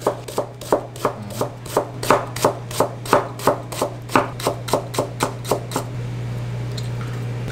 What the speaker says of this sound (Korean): 그 다음에 양배추도 체를 썰어주는데 한 요 정도 길이가 좋을 것 같아요.